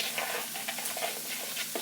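A steak marinade is stirred in a bowl at close range, giving soft, quick, liquid swishing and light clicking in a steady rhythm, with no one speaking.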